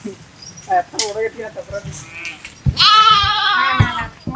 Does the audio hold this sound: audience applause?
no